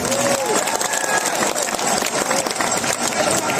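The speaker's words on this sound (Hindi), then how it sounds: "खुद ताली बजा लो अपने कदम से।" Crowd clapping at a religious gathering on an open ground in Udaipur, dense continuous applause from many hands, loud and steady throughout the clip.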